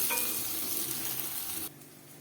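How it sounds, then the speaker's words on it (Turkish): Peeled, salt-soaked eggplant fries in a pan with a loud, steady hiss and crackle of oil, then cuts off abruptly near the end. "Şimdi kızartıyorum."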